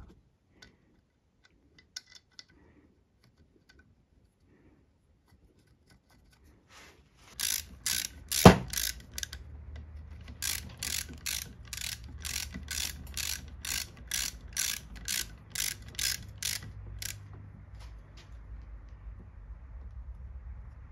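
A ratchet tightening a bolt on a Renault Twingo engine during cylinder head work: a quick run of sharp, evenly spaced clicks, then a longer series of rhythmic ratchet strokes, close and clear against a quiet background.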